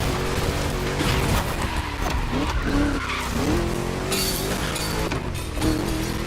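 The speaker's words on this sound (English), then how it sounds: "Just listen to that V8 like a chonky, down-tuned guitar riff." Loud, rumbling V8 car engine in the video game The Crew Motorfest, revving at speed with rising and falling pitch and tire screeches, racing close by without any talking.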